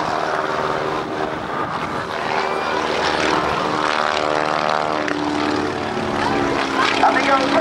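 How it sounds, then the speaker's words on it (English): A stock Stearman biplane performing aerobatic rolls at an airshow, its radial propeller engine droning loud and continuous with rising and falling pitch, under a commentator's voice. "Up comes the stock Stearman and rolls it over on its back."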